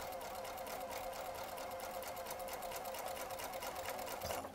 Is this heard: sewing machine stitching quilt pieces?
yes